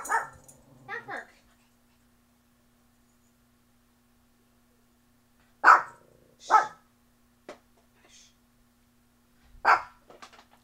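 A dog indoors gives a few short, sharp barks in separate bursts, with long quiet gaps between them.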